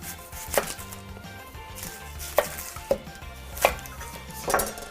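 An onion cut on a board with a knife, four or five sharp, spaced chopping knocks at close range over a low background hum, no voices.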